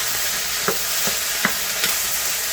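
A stir fry with rice hisses loudly and steadily in a pan, broken by about four soft scrapes of a utensil; no voices.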